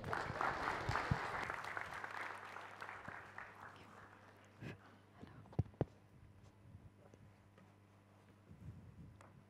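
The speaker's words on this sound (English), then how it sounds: "Round of applause." TEDx conference audience applauding a speaker coming on stage, a dense burst of clapping that thins and fades over several seconds, leaving scattered claps and a quiet hall.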